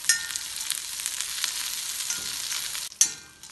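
Split cashew nuts are stir-fried in a pan for a vegetable curry, giving a continuous close sizzle with light stirring scrapes and a sharp clink near the end.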